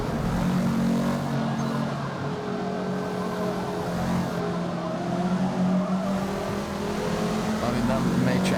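A race car's engine revs and drones steadily in Forza Motorsport (2023), with tires squealing and skidding through corners, loud and continuous throughout.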